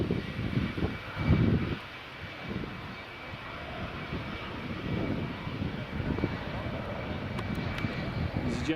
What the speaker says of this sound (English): EasyJet just landing.